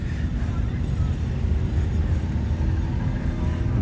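A Case 4072 tractor, a big diesel shown at a vintage farm equipment event, runs close by with a heavy, steady low rumble and no break.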